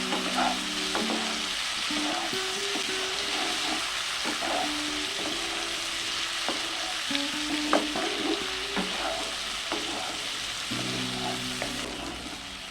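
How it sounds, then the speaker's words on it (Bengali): Colocasia (taro) frying with chili paste in a pan, a continuous sizzle broken by repeated scraping stirs and faint metallic clinks, no voices. "লঙ্কা বাটা দিয়ে আরও দু মিনিট মতো ভেজে নিয়েছি"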